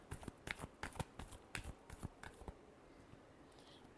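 Tarot cards are shuffled close and quietly in a series of quick, crisp riffling flicks that trail off into softer rustles.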